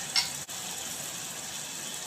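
Tomatoes sautéing in a pan for instant sambar, a soft, even sizzle with a brief clink near the start, quiet and without talk.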